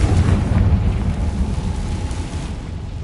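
A Confringo fire spell explosion in Hogwarts Legacy rumbles loudly and low, opening with a heavy boom that slowly decays into a long, thundery roll.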